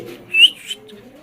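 Royal teddy pigeons at a pigeon seller's make a brief, close, whistling call rising out of a low background murmur.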